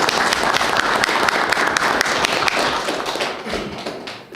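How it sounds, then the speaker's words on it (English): A round of applause in a board meeting room, a moderate group clapping with distinct close hand strikes and a few thumps, steady at first and then tapering off toward the end. "Can we give them a round of applause?"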